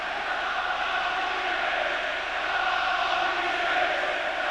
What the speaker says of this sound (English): Deafening noise here at Highbury now as Arsenal come looking for that second goal